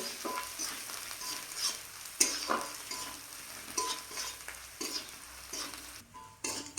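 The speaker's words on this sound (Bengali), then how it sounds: "ভেজে নেব" Cumin powder and spices sizzle softly in a pan, with scraping stir strokes and occasional utensil clicks breaking through the steady frying hiss.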